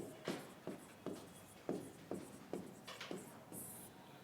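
Chalk or marker scratches across a board during a classroom lecture on Java programming. A series of short, distinct strokes taps out an irregular rhythm, close by and fairly faint, with no talk over it.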